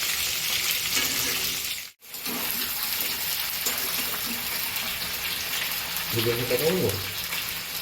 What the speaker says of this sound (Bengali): খুব ভালোভাবে মাছের মাথাগুলোকে ভেজে নেওয়া হচ্ছে, তোমরা দেখতেই পাচ্ছ।